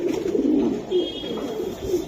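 Silver Giribaz pigeons coo in a few soft, low, rolling calls, close up with no talk.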